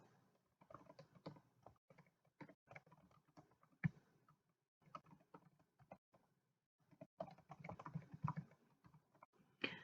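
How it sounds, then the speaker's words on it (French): Rapid typing on a computer keyboard, a busy run of close, crisp keystrokes, pausing briefly around the middle and picking back up strongly toward the end. "Vous pouvez, comme dans un logiciel de traitement de texte, taper directement les informations qui vous intéressent."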